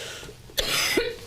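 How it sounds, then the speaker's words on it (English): A single harsh, wet-sounding cough bursts out close by, followed by a short throaty rasp as it trails off, heard alone without any talking over it. "That cough doesn't sound good."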